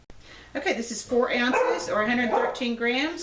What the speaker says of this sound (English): Sorry, you can hear my dog in the background.